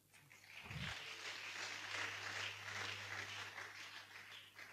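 A church congregation applauds with steady, dense clapping that swells and holds for several seconds at a moderate distance, with a low hum underneath and a brief thump near the start.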